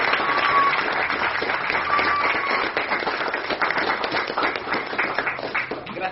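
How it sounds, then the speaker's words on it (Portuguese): An audience at a religious gathering applauds steadily, a dense continuous wash of clapping that stays close and loud for several seconds, with no talking over it. "Vamos aplaudir papai."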